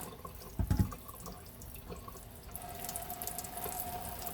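A sink tap runs during cleanup after glass etching, a faint trickle that swells into a steady, close gush of water splashing into the basin for the last couple of seconds.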